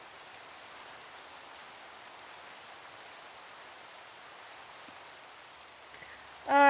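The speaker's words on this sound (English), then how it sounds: "Still a kind of beautiful forest in the rain." Rain falls steadily over a video game forest, an even, soft hiss of drops that holds unchanged for several seconds before a brief louder sound cuts in at the very end.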